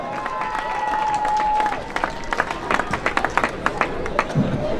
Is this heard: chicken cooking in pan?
no